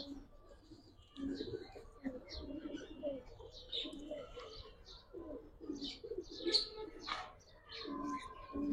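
A China Khaki (Surmai Khaki) pigeon coos in short, repeated bursts at a market stall, with occasional chirps and some background chatter.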